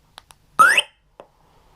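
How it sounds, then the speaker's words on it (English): An MP3-based bicycle alarm going off: two short clicks, then a loud rising electronic chirp lasting about a quarter second, followed by a single brief blip. No one speaks. "To activate the alarm, you press the button twice."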